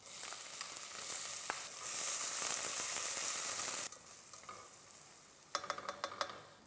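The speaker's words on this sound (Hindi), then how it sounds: "जब राई फूटने लगे उसमें डालें करी पत्ता और प्याज" Mustard seeds, curry leaves and onion frying in hot oil for a mixed sprouts usal, a steady loud sizzle that drops to a quieter hiss, then a run of sharp crackling pops near the end.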